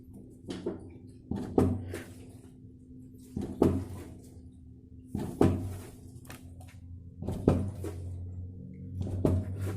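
The front fork of an old Royal Enfield motorcycle knocks as the bike is rocked up and down and the front wheel strikes the ground. Dull, close clunks repeat roughly every two seconds over faint background hum.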